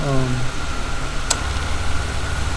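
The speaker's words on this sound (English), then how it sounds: "And then you turn on the vehicle." A car engine idles steadily just after being switched on, a low, even rumble with a broad hiss over it and a brief sharp click partway through, close and fairly loud.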